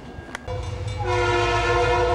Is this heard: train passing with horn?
yes